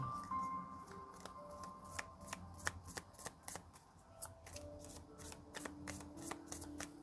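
Tarot cards being shuffled by hand, a rapid run of crisp riffling snaps and flutters at close range, steady throughout with soft tonal music beneath and no talking.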